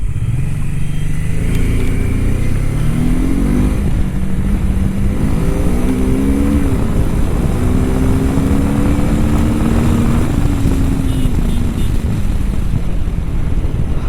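A BMW F450GS motorcycle accelerating on the move, its engine rising through repeated climbing whines with gear shifts, steady and loud over constant wind roar throughout.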